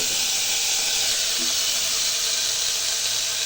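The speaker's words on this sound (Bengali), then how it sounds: "আমি তার মধ্যে অ্যাড করব কেটে রাখা সবজিগুলো" Chopped vegetables drop into hot ghee with spices already fried red, giving a steady, loud broadband sizzle and hiss that holds evenly throughout without pause.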